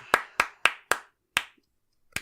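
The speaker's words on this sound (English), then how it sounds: "I'll golf clap." Five quiet, evenly spaced hand claps with a pause before a sixth, a restrained golf clap offered during an anime-of-the-year awards podcast as the male-category runner-up is announced.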